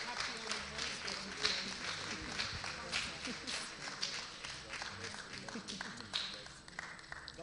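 A London church congregation applauds a couple at a Sunday service: loose, scattered clapping runs steadily throughout, with voices mingled in the background.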